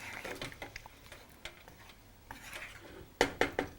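A spoon stirs coconut milk into a curry in a pot, producing irregular scraping and clinking knocks of utensil against metal, ending in a few sharper taps.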